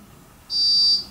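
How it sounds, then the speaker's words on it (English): A single high-pitched electronic beep from a Meade LXD75 telescope mount signalling alignment sounds once, clear and steady for about half a second, against a quiet background. "You'll hear the beep here in just a second that it's aligned."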